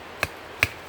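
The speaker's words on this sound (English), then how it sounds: "I'm going to take my ground stake, place that in the ground, and then I'm just going to hammer it in with my rubber mallet" A rubber mallet drives a ground stake into soil for landscape lighting on Vancouver Island: two dull, close thuds about half a second apart against a quiet outdoor background.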